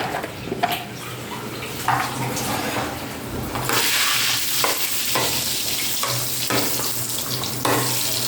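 Fish frying in a pan and being stirred lightly, a continuous sizzle that swells louder partway through, broken by repeated short scraping stirs.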